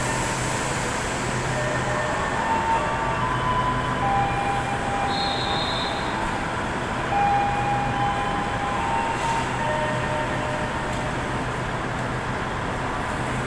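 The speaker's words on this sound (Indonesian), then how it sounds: "Lokomotif vintage lansir ke sini ya, narik lokomotif kereta ekonomi lokal ke Cepu." Vintage locomotive hauling a local economy train toward Cepu, a steady rumble of rail wheels and carriages rolling past at a distance, with faint squeals and a brief whistle-like tone, no talking.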